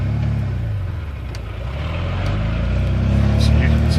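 A 1991 Ford F-150 with the 4.9-litre engine and a misfire fault revs in first gear, a loud, close, steady low rumble rising slightly toward the end, with a voice speaking over it.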